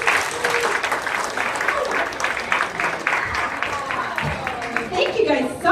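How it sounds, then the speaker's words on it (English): A comedy club crowd applauds as a comedian takes the stage, dense clapping at first that thins into scattered claps, with voices and cheering rising near the end. "big round of applause for Jen McAuliffe"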